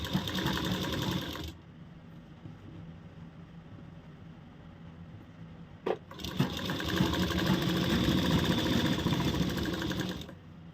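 Sewing machine stitching a salwar seam, its motor running in rapid, steady bursts: a short run, a pause, a brief click, then a longer continuous run before stopping.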